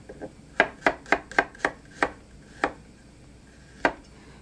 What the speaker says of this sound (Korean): 마늘은 다져 사용하겠습니다. 먼저 편 썰고요.